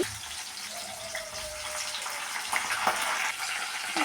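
Mustard seeds, cumin, green chillies and curry leaves crackle in hot oil, a soft continuous sizzle with scattered pops and a brief rising whine, close but fairly quiet.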